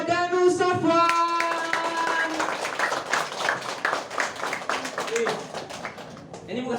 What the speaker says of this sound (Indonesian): Langsung saja kita sambut dengan tepuk tangan yang meriah, Bro Danu Sofwan.